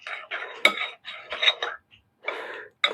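Garlic and herb butter with thyme is mixed in a bowl, making close, choppy bursts of scraping and clinking from utensil against dish, broken by short pauses.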